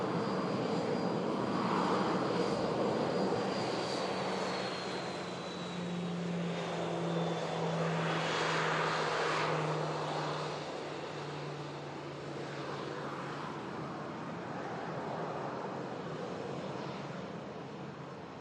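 Airplane landing at Manchester Airport in Storm Lilian winds, a steady distant engine roar with a slowly falling whine, lasting throughout at moderate level with no talk.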